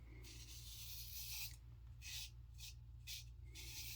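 A 1930s King oscillating safety razor shaves through lather, making soft, close scraping strokes in short bursts of about half a second, faint against a low steady hum.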